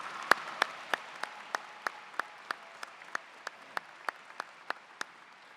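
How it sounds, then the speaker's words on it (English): Applause at a high school graduation ceremony: one nearby pair of hands claps in a steady, even beat of sharp claps over a faint wash of crowd clapping, with no talking. "Please join me in a round of applause."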